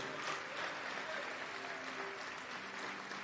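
Church congregation applauding together in a broad, steady wash of clapping with crowd noise beneath, faint and distant, holding evenly throughout.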